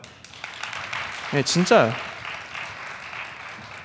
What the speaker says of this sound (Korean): 그럼 한번 박수 쳐줄까요?